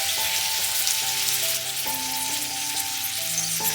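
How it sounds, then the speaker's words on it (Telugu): Capsicum frying in a pan with sesame seeds and roasted gram flour powder gives a steady, close sizzle that lasts throughout. A faint tonal hum runs underneath it, and nobody speaks. "దీనిని మనం ఒక 5 నిమిషాల పాటు బాగా వేయించుకోవాలి."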